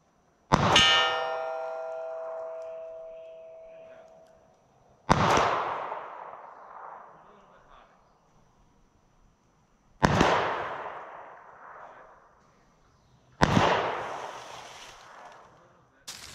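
Four loud gunshots from .38 Special Super Police 213-grain lead round-nose rounds fired at an outdoor target, evenly spaced several seconds apart, each a sharp crack with a long echoing decay, the first with a ringing metallic tone.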